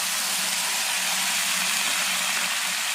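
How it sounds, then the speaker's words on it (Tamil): Water poured into a hot pan of fried onions and peas, giving a loud, continuous hissing steam roar that stays dense and unbroken from start to finish. "இப்போ என்ன பண்ண போகிறோம் இதில் வந்து தண்ணி ஊற்றி போகிறோம்"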